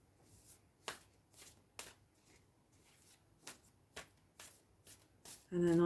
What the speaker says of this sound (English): I'm just going to give these a little shuffle.